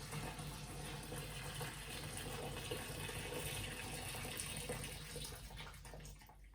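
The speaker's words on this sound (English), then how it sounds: "So we're now adding boiling water." Boiling water pours from a kettle into a home-brew fermenter from a starter brewery kit, a faint, continuous splashing gurgle that holds steady and tapers off near the end.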